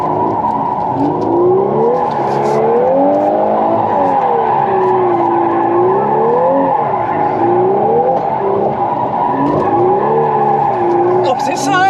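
A Volkswagen Golf R drifts with long, wavering tire squeals over a loud, close engine that rises and falls in repeated swells.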